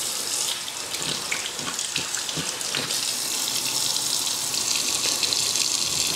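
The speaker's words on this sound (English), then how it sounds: "I'm going to put hot water through this to melt all the ice that's still there" Hot water pours and gushes steadily through a Vitamix 5200 64 oz blender container holding leftover ice and berry seed pulp, a continuous close splashing rush with no talk.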